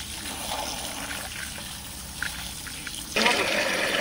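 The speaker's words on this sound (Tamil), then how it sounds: "கொட்டி கொட்டி நான் வாஷ் பண்ணிக்கிறேன்." Water is poured steadily over freshly picked cashew fruit to wash them, a close continuous trickle and splash that grows into a louder gush near the end.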